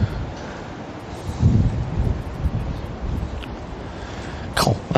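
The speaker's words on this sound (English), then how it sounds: "That is windy out there." Steady broadband wind roars and buffets a microphone outdoors at a carp fishing spot, with gusty swells and a brief rustle near the end.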